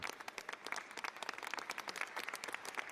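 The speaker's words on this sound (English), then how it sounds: "Why are all those women there clapping?" Applause from a crowd of women clapping, dense and continuous with many overlapping claps, fairly distant and soft, playing from a recorded clip.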